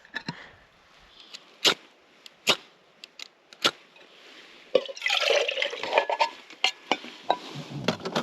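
Icy water splashes and trickles into a Goshawk Rapid Boiler on a cold morning, with a few sharp metallic clinks and drips followed by a burst of pouring and gurgling, close and clear.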